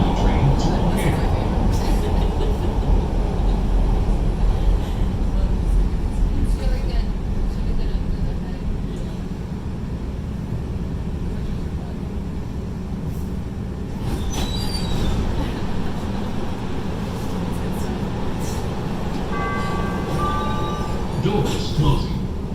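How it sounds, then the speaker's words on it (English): A Chicago CTA Blue Line subway train bound for O'Hare rumbles loudly and steadily throughout, its wheels squealing now and then and a brief chime sounding near the end, with an announcement voice under the noise. "This is a blue line train to O'Hare."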